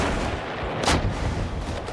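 Artillery booms in the strategy game Brother Against Brother: The Drawing of the Sword, one sharp, loud blast rising out of a dense, rumbling battle din.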